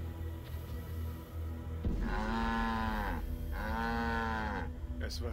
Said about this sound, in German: Ja gut, dann eskortieren wir mal die Kuh.